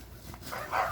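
A dog barks and yips sharply nearby, growing louder toward the end, with agitated bursts over a noisy background.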